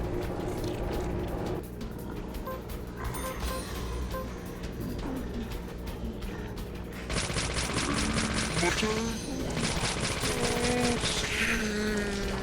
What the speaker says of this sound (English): That's where the rapidness of an SMG comes in handy.